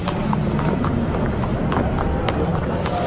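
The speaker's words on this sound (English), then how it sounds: "the horses move from the stables to beneath the grandstand" Racehorses' hooves clip-clop steadily as the animals are led from the stables to beneath a grandstand, a continuous dense patter of many hoofbeats under a broad background hum, with speech-like noise mixed in.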